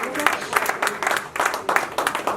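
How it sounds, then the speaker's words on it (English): Audience applause welcoming exhibitors as they enter at a women's peace and empowerment summit, clapping that comes in uneven bursts rather than one steady roll. "Let's give them a round of applause."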